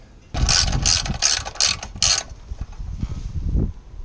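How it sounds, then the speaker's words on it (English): Screws fastened into a Jeep XJ replacement battery box, heard as five rapid ratcheting bursts close up, then quieter scraping and clunks of the metal box. "We're going to lower it down and put our screws in there."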